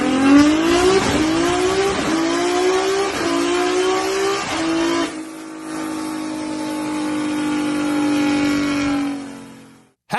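A loud car exhaust revs hard in sweeping rising and falling bursts, then holds a steady high drone before fading away, close and dominant with no talk.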